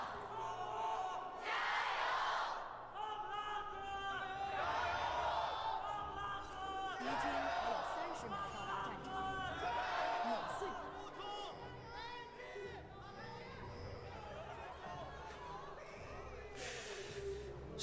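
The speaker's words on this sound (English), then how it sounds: "Let the crowd shout for a moment or two." Esports arena crowd at an LPL League of Legends match shouting and cheering in loud, sustained waves, with voices rising and falling throughout and no commentary over it.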